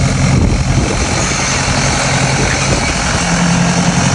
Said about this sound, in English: the tractor's coming down and it's gently covering over with a disc